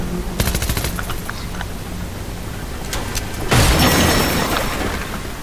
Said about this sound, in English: Did you also hear the gunshots?